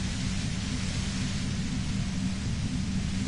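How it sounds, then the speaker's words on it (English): A roaring burst of static, the pale ULAN frequency in the video game Disco Elysium, fills the whole clip as a steady, loud, dense hiss with a heavy low rumble and no pauses. "The explosion of static you're hearing is the ULAN frequency."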